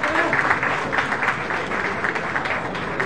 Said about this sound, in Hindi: तालियों के साथ में अभिनंदन स्वागत।